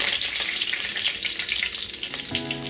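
Curry leaves sizzle in hot oil for a chicken pepper dry, a close, steady crackling fry that continues throughout.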